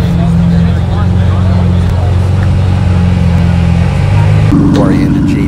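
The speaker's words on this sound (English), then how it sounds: "The Aventador SV pulling out." A Lamborghini Aventador SV pulls out at a cars-and-coffee meet, its engine droning loud and deep, then rising in pitch as it revs. Voices and crowd chatter sound underneath.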